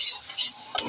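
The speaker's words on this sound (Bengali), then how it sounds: "গাজরটা নাড়তে থাকবো যতক্ষণ না কালারটা চেঞ্জ হচ্ছে।" Grated carrots being stirred in a frying pan for carrot halwa, with a few soft scraping strokes of a spoon and a faint sizzle, brief and close.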